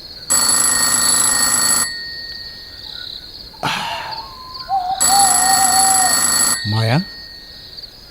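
A telephone rings in an Assamese radio drama, two long bursts of bright, harmonic electronic ringing separated by a pause, with a voice calling out and other speech-like sounds between the rings.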